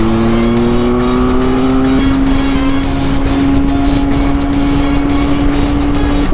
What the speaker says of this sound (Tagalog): First impression ride, first ride of the BENELLI 502C.